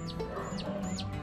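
A white pinto rooster clucks in short, repeated calls with a few higher chirpy notes, close and clear over a faint steady background hum.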